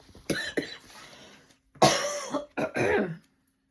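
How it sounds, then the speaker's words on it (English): Several harsh coughs in two bursts, a couple of short ones then a longer fit, close and fairly quiet in an otherwise silent room. "I do cough a lot."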